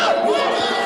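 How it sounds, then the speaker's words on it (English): Loud, dense crowd roar and shouting fills the stands at a Legends Football League game, Seattle Mist versus Chicago Bliss at the 2016 Legends Cup, a brief continuous burst of cheering. "it's a loud crowd out here"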